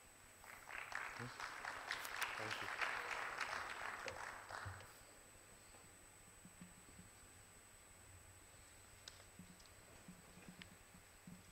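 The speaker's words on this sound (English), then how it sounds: "A big round of applause for the panelists" Audience applause for the panelists at the WES 2017 conference session in Dubai, a broad patter of clapping for about four seconds before fading into quiet room tone with faint ticks.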